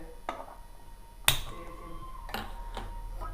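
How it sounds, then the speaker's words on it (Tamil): A stove is lit with one sharp ignition click, followed by a few fainter ticks in a quiet room. "நம்ம அடுப்பை பற்ற வச்சுக்கலாம்."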